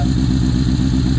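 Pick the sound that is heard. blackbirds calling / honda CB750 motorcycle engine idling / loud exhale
honda CB750 motorcycle engine idling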